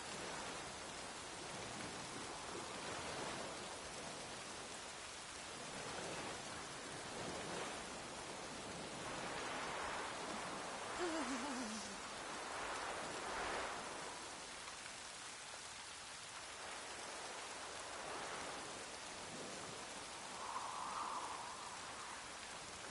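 Steady downpour in The Witcher 3: Wild Hunt, a dense, even wash of raindrops that stays loud and close, swelling slightly now and then.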